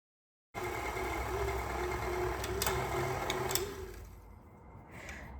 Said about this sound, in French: On va laisser la machine travailler un peu pour la rendre un peu plus souple.